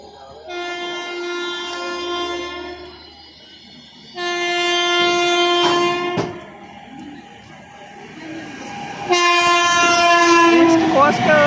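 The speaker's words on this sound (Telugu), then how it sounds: "Howrah Hyderabad east Coast express మనకి మేడపాడులో తగిలింది." The Howrah-Hyderabad East Coast Express passes at Medapadu, sounding three loud, sustained horn blasts with short gaps between them over a low rumble of the train.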